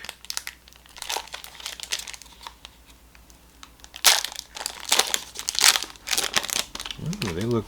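Foil pack of RetroRealms Halloween collector cards being torn open and handled, with loud close crinkling and tearing bursts between quieter rustles.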